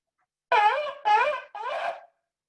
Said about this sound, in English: or three short blasts that should be about the same length as the tekiah as this.